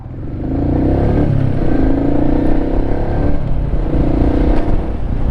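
A Royal Enfield Meteor 350 motorcycle engine thrums loud and close while riding, its low, throbbing note swelling and easing as the revs change. No one speaks.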